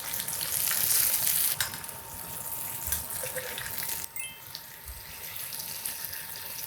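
A mackerel sizzles in oil in a pan just after being flipped, with the heat switched off. A close, steady, dense crackle is loudest at first, then settles, with a couple of soft clunks and no talking.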